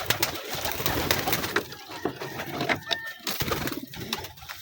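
Lotan pigeons coo repeatedly at close range in a loft, soft throaty calls over a busy background of fluttering and rustling.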